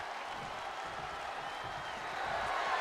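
A video-game wrestling crowd in WWE 2K23 cheers in a steady, dense roar that swells slightly toward the end, with no clear speech on top.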